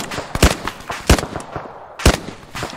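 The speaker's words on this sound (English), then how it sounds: "It sounds like someone's shooting at you guys with a big gun." Heavy gunfire from a big gun in a combat video game: four loud, sharp blasts spaced irregularly about half a second to a second apart, close and punchy with brief echoing tails.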